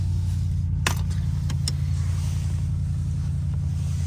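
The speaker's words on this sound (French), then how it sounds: "Je laisse la voiture chauffer. À mort. Genre tout le cold start je le laisse" Audi RS7 V8 idling through a cold-start warm-up, a steady low rumble holding evenly throughout, with a few brief clicks and jingles near the start.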